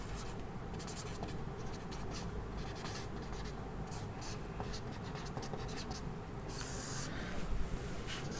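Steady, faint scratching of a pen or chalk as notes are written on a board during a geography lesson, continuous strokes running throughout without speech.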